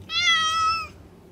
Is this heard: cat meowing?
yes